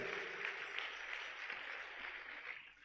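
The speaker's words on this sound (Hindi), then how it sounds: "जोरदार ताली।" A crowd at a Jain religious gathering gives steady, continuous applause in response to a call for louder clapping; the dense clapping is fairly faint and even throughout, with no talk over it.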